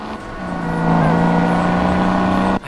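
Cars speeding along the Autobahn in the driving game Crash Time 4, a loud steady engine drone that rises slightly in pitch and holds before cutting off abruptly.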